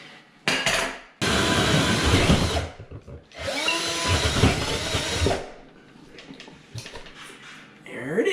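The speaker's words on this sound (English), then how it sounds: "So when I drill the hole, I'm not going to drill it too deep" Drill boring a hole into a wooden ceiling joist for a kitchen electrical box, two loud sustained bursts of whirring with short pauses, followed by clattering and faint talk.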